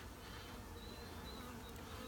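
Package honeybees inside their shipping box hum in a dense, steady drone, faint and continuous with no pauses, a thin whine riding above the low buzz.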